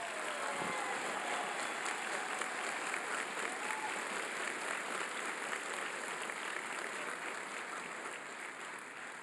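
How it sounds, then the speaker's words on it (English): A large crowd at a sheriff's basic academy graduation ceremony applauds the graduates, a dense and sustained roar of clapping that holds steady for several seconds before easing slightly. "Let's give all of our graduates a big round of applause."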